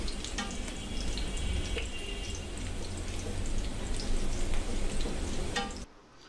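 Loud, steady sizzling of pointed gourd (potol) frying in a pan, with a crackling burst as water is added, continuing close and busy before cutting out abruptly near the end.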